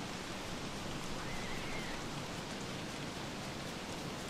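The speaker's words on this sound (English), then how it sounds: "It's pouring down rain, man." Steady, heavy pouring rain from the Don't Starve video game, a constant dense hiss with no pauses, heard alone.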